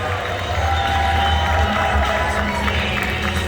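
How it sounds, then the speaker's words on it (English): Crowd applause at the Ohio State Fair, loud and continuous with cheering voices and a low rumble mixed in, dense and unbroken throughout. "Give them a grim round of applause, please"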